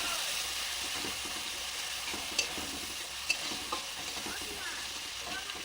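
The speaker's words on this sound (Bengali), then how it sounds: "এখন পেঁয়াজ একটু নাড়াচাড়া করে হালকা মারবে।" Onions stirred and frying in a pan, a steady close sizzle with repeated scraping strokes of the spatula and a few sharper clinks against the metal.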